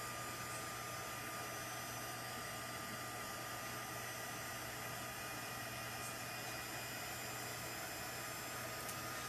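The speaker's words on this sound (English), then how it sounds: "And then I have my heat gun over here." A heat gun blows hot air with a steady, even hiss like a hair dryer. It stays faint and unchanging for the whole stretch while warming work for a reverse impression die technique.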